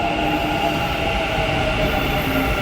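A Bengaluru Namma Metro train arrives at the platform with a loud, continuous rumble and a steady rail hum, a faint wheel squeal riding on top, close and unbroken with no voices.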